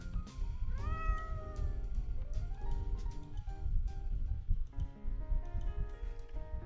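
Cat meowing in a video game, a few drawn-out rising and falling meows close up over a steady low rumbling background with faint ticking.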